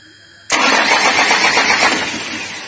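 After a moment of quiet, an engine cranks and catches, jumping to a loud, close roar that settles into a steady idle which gradually eases.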